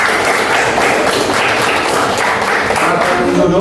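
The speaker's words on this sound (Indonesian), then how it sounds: "berikan aplaus untuk kelompok 1" A room full of people gives a warm, sustained round of applause for the first group, dense steady clapping holding level from start to finish.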